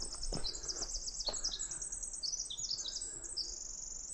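Birds chirping and trilling in a high, continuous string of calls on a backpacking trail in Washington, with a couple of brief low knocks early on; no voices.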